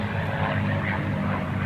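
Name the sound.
P-51 Mustang aircraft performing Cuban 8 maneuver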